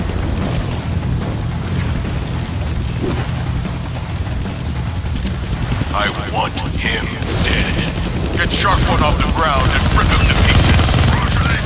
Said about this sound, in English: Hijack a chopper while it's flying around trying to turn you into shredded cheese?